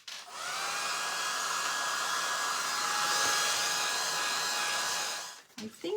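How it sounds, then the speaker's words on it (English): A hair dryer blows steadily at close range to dry paint on a canvas tote bag, a loud even whirring hiss with a faint whine that holds for about five seconds before switching off, followed by a few light handling knocks. "I'm going to give it a quick dry."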